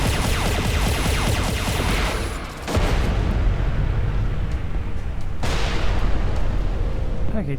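Explosions in the space shooter game Everspace 2, a loud, dense, continuous rumbling blast that stays strong throughout, with brief dips around the three- and five-second marks.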